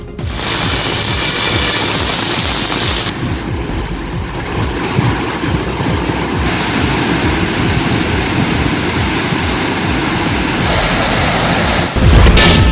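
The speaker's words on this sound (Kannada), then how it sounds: "ಸಕಲೇಶ್ಪುರ ಭಾಗದಲ್ಲಿ ಭಾರಿ ಮಳೆ ಆಗ್ತಾ ಇದ್ದು ಗಾಳಿ ಮಳೆಗೆ ಮರಗಳು ರಸ್ತೆಗೆ ಉರುಳಿ ಬಿದ್ದಿದೆ" Heavy monsoon rain and wind around Sakleshpur in Karnataka's Hassan district, a dense, loud, unbroken rush of broadband noise that swells slightly in gusts and never lets up.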